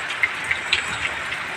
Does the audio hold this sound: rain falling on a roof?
yes